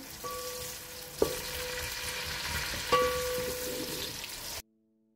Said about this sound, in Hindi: ऑयल गर्म हो चुका है, इसमें हम प्याज शामिल करेंगे